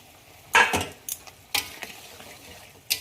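Fried mourala fish go into a pan of spicy mustard-paste curry with a little sugar. A few sharp spatula clatters and scrapes break through a soft, low sizzle.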